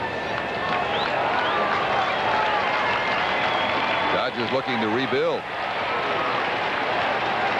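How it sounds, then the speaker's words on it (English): A baseball stadium crowd at a 1987 Blue Jays–Yankees game keeps up a continuous roar of cheering and applause, loud and sustained throughout, while a broadcast commentator talks over it. "There's a crowd reacting to that 1-1 score we told you about"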